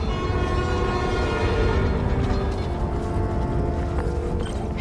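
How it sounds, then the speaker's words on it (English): Subway train in the Spider-Man Miles Morales video game, a steady loud rumble of rolling cars with a sustained horn-like tone running throughout, no talking. "My trusty New York subway."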